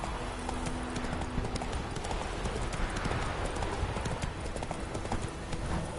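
A horse gallops in The Witcher video game, its hooves beating a fast, steady clip-clop throughout, close and loud against a busy game background.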